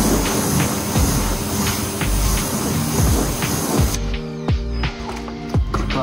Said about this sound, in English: What you're going to do is you're going to rinse off the wheel.